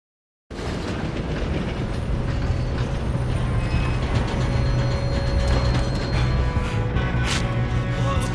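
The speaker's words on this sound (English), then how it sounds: "Come on, we need to stop this train." A train in the video game Red Dead Redemption 2 rumbles steadily along the rails, a loud continuous rolling noise with faint clatter throughout.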